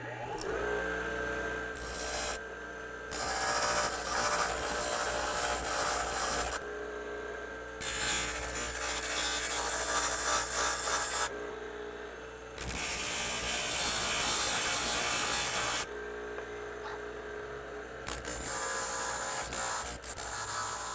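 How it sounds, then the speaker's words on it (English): A bench grinder grinds the corner off an electric planer's pressure bar in several loud bursts of harsh whining metal grinding, separated by short pauses, with no talk. "take the whole unit back over to the bench grinder and just grind that little corner off the pressure bar"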